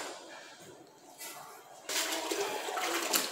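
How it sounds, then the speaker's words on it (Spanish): Bricks being dunked into a bucket or tub of water before laying with lime and sand mortar, a soft watery slosh and splash rising sharply partway through, close by with no talk. "Hay que sumergirlos así en el agua para que se pueda pegar nuestra mezcla."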